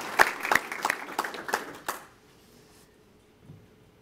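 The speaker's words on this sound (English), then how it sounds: "let's give a round of applause to Sergeant Petrola for the invocation this morning" Applause from the audience at an NCO induction ceremony at the US Army Garrison in Natick, Massachusetts: a short round of sharp, scattered claps that fades out after about two seconds, followed by near silence.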